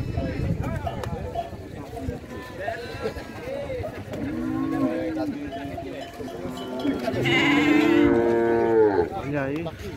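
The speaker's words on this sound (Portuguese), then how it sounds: "É difícil aparecer uma juntona de boi dessa." Oxen low and moo repeatedly nearby amid a noisy crowd at a cattle fair in São Benedito, Ceará, with people talking throughout and a louder drawn-out moo toward the end.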